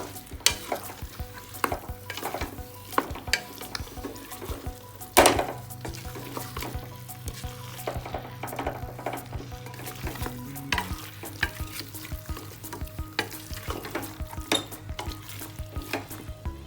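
A spoon repeatedly scrapes and knocks against a pressure cooker pot while chicken and rice sizzle underneath, steady rhythmic stirring up close with no voices.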